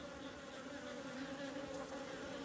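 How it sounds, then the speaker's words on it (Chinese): Honeybees fighting at a hive entrance make a continuous dense buzzing drone. It is fairly faint, steady and close, with no voices. "这就是蜜蜂在打架。"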